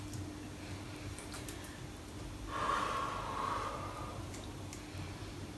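A single long exhale during a Pilates arm exercise rises out of quiet room tone, a soft breathy rush lasting about a second, close to the microphone.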